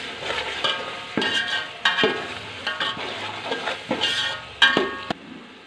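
Cloves, star anise and cinnamon roasting in a pan for vegetable pulao, bright sizzle under repeated scraping spoon strokes roughly once a second, close and fairly loud.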